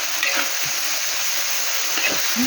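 Water spinach with its stems is stir-fried in a pan, a constant hissing sizzle with soft tossing and scraping strokes, close and steady.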